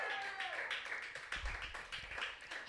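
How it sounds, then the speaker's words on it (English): Scattered applause from a comedy-club audience at a weekly comedy festival, greeting a comedian as she leaves the stage, a moderate patter of claps that stays steady and fairly close. "just applaud her"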